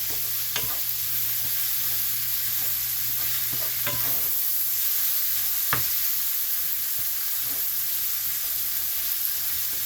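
Ground beef sizzles steadily in a hot pan while a utensil breaks it up, with several sharp scraping clicks against the pan over a constant frying hiss.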